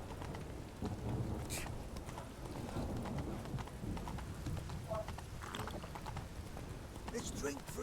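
Steady rain pours through The Witcher 3 in the city of Novigrad, a dense constant hiss with horse hooves clopping nearby and occasional voices and thunder-like rumbles in the mix.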